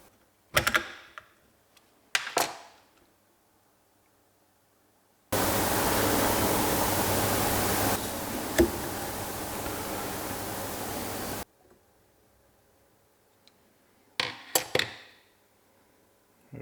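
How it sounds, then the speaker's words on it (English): A steady, loud hiss of air escaping from an expensive truck air component, lasting about six seconds close to the microphone, with a few sharp clanks before and after. "I know the air leaks out here."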